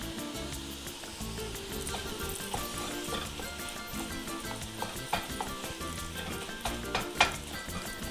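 Food sizzles and fries steadily in a pan, with a dense hiss and occasional sharper pops and clinks over about eight seconds, no talk.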